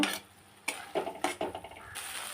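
Sliced carrot and potato stirred into cooked-down masala for a katla fish curry in a pan, a few separate clinks and scrapes of a spoon against the metal over a steady sizzle.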